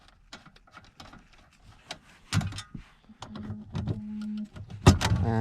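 A ratchet or wrench undoes an 8mm bolt on the battery clamp of a Ford Transit Custom van, a run of quick close clicking ticks followed by louder metallic rattles and knocks.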